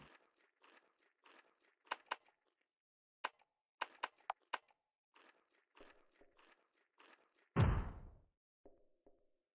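A video game creature munches on a flower in scattered crisp crunching bites, brief and fairly close, ending with a louder thudding crunch and a faint tail.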